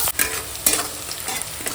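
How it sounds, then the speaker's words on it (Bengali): Onion and green chili frying together in hot oil left from frying lentil dumplings, a loud steady sizzle broken by several sharp scraping stirs of a spatula in the pan. "ওই তেলেই এখন পেঁয়াজ কাঁচা লঙ্কা দিয়ে দেবো দিয়ে পেঁয়াজ কাঁচা লঙ্কা একসঙ্গে ভেজে নেবো"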